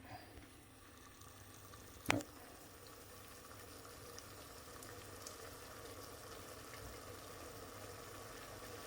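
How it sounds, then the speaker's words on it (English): Low water simmering in a pot on a Bosch PVS675FB5E induction cooktop set to level 8, a faint steady bubbling hiss throughout with one brief sharp knock near the start. "We can get a fast simmer on number 8."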